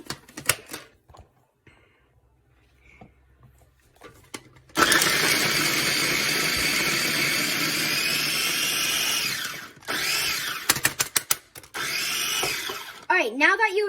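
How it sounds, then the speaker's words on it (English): A kitchen blender whirs loudly, chopping onions in a continuous high-pitched roar for about five seconds, then stops and restarts in short pulses, with clicks and handling sounds before and after. "So set your blender to chop,"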